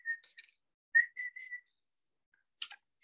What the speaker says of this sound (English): And Titch had a little wooden whistle.